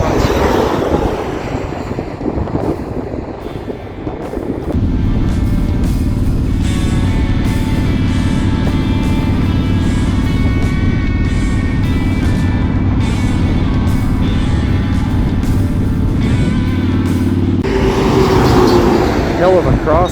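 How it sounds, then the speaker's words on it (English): Strong crosswind buffeting a motorcycle on an open prairie highway in Alberta, a loud continuous roar of wind noise and engine drone that steadies and thickens after the first few seconds. "Hell of a crosswind right now."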